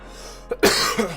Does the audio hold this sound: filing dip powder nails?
no